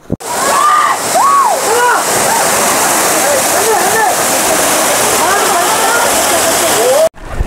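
Waterfall near Baba Budangiri in Chikmagalur, a steady loud rush of falling water that fills the whole clip and cuts off abruptly near the end, with people talking over it.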